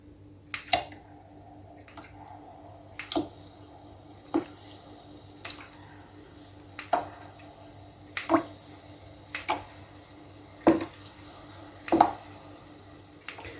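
Mini doughnut dough fries in hot oil, with about nine separate bursts of sizzle and crackle at irregular intervals over an otherwise quiet kitchen background.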